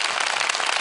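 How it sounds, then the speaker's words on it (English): Burst of applause from a studio sound card, a dense crowd of clapping hands that is bright and steady, short and fairly loud with no voices over it. "there's 40 people in here just applauding"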